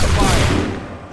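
A volley of musket fire from a line of soldiers in Assassin's Creed 3 erupts as one loud, dense burst that rolls off and fades over about a second.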